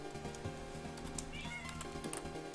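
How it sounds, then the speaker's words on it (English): A cat meows faintly in the background behind a steady electronic game soundtrack, a short wavering call partway through. "That noise you hear in the background is Muffet going haywire."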